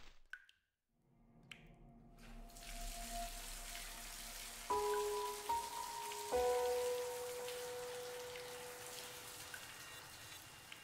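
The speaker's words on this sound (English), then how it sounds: "Take a shower." Steady hiss of shower water running in the horror adventure game The Cat Lady, a broad continuous spray that starts after a short quiet gap, with tonal game music entering partway through.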